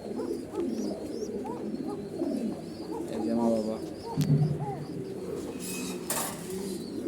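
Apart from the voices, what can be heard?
pigeons cooing at a pigeon farm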